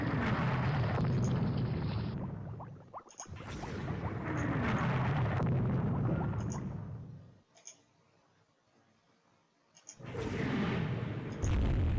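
Naval battle in Rule the Waves 2 with torpedo hits and shell explosions rumbling in long loud booming waves, broken by a near-silent gap before another heavy blast.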